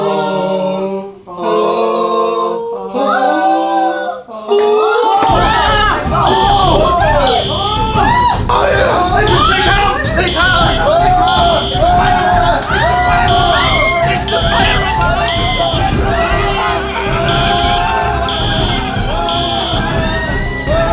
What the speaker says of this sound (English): So I'm going to connect my phone to the speaker and play a fire alarm sound.